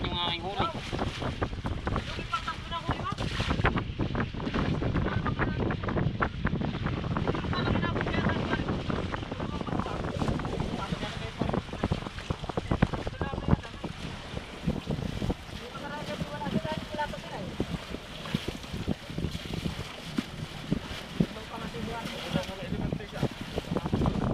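A fishing boat runs on open water with heavy wind buffeting the microphone and splashing waves, motor noise mixed in, with people talking at times.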